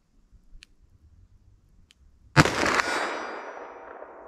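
A single sharp .357 Magnum gunshot from a ballistic test fired outdoors, a loud crack with a long decaying echo, preceded by a couple of faint clicks.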